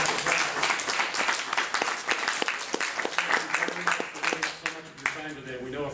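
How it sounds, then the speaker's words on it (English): Applause at a TCNA 2012 conference session for four panelists: dense, steady clapping from an audience fills the room for several seconds with crisp individual claps standing out, while someone talks faintly underneath and the clapping thins toward the end. "Folks, these four deserve a round of applause"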